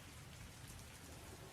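Steady heavy rain used as a sound effect in a radio drama, a dense, continuous downpour hiss that stays even and unbroken throughout.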